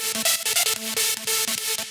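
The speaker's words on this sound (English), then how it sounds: "this like sine wave combined with the saw wave with a bunch of unison" Layered synth lead built from a sine wave and a unison-stacked saw wave, from a hard melodic rave techno track, playing a choppy rhythmic melody with short stabbing notes, loud and alone.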